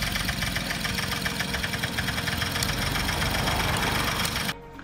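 A 1978 Puch Magnum XK moped, a barn find, runs steadily with a rapid knocking two-stroke idle, loud and close, before cutting off abruptly at the end.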